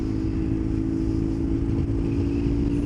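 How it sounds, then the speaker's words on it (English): A custom BMW R1150GS scrambler rides along country roads with its engine and wind roar droning steadily and loudly throughout, with no clear rev change. "You can see I'm just short shifting the bike"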